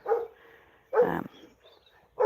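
Three short, loud dog barks spaced apart, with faint quieter barking or yips in between, heard at moderate distance in the early morning in New Zealand.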